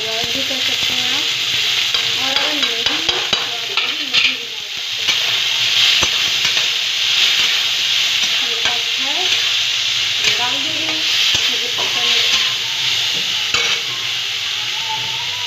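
Curd sizzles and fries in a hot pan while being stirred for a paneer and soybean Maggi, a steady loud frying hiss with repeated scraping stirs throughout and no talk.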